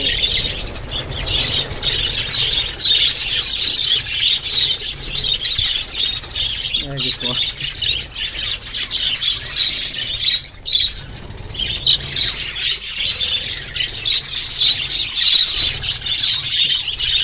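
Caged pet parrots squawk and chirp almost nonstop, shrill calls piling on top of one another, fairly loud and near, with a brief rustle partway through.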